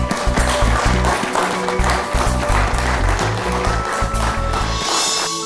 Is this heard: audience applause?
yes